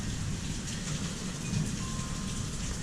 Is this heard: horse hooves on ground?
no